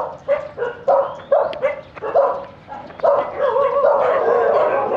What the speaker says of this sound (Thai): ก็เสียงหมานี่เห่ากัน